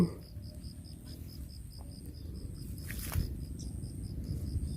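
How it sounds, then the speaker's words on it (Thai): Outdoor ambience on Phu Thap Boek mountain with a steady pulsing cicada chirr, a low rush of wind, and occasional faint bird calls. "มันได้ยินเสียงนกเนี่ย เสียงลมเสียงจักจั่นเสียงใบไม้ไหว"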